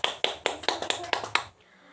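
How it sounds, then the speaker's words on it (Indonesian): Classroom applause for a student named Sinta, about seven sharp, evenly spaced claps in a quick rhythm, close and fairly loud, then stopping abruptly. "tepuk tangan untuk Sinta"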